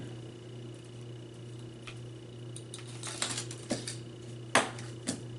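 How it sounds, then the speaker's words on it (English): Small cutters snipping 18 gauge beading wire, a few soft crisp clicks near the end of a quiet stretch, close up and faint against steady room hum. "I'm going to cut a piece of this 18 gauge wire"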